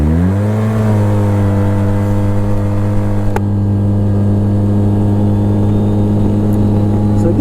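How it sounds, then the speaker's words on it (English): A 2014 Polaris RZR 800 EPS with 50-inch width pulls hard from a dead stop in two-wheel drive, its engine droning loud and steady as revs climb toward top speed, with no talk over it. "So dead stop, and I'll just pin it, two-wheel drive, see what we can do"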